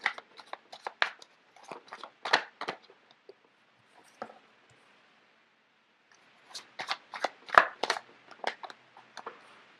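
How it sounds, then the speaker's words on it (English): Tarot cards being shuffled by hand in two bursts of rapid riffling clicks, separated by a few seconds of near silence with only a single faint tap in between. "let me just get the cards out first of all"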